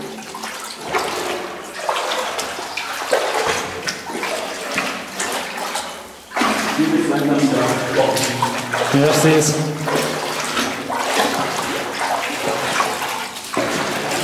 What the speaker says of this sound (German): das Plätschern ist so laut